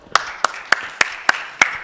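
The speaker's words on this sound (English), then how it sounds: "big applause" After a conference talk on DeFi, six sharp, evenly spaced hand claps ring out close and crisp in quick succession, sounding like one or a few people starting the applause.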